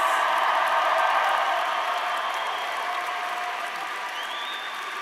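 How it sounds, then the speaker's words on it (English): A large crowd at a college commencement ceremony applauds its graduates, a broad steady wash of clapping that fades slightly toward the end, with faint cheering mixed in. "let's give one more round of applause for all of our May 2024 graduates."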